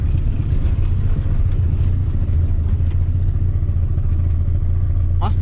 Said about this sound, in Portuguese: Nossa, tô escutando barulho do motor,